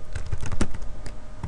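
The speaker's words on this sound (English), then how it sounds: "So I just run my finger along the top of the number keys." A fingertip runs quickly along the number keys of a computer keyboard, a close, rapid ripple of plastic key clicks lasting about a second and a half, alone without talk.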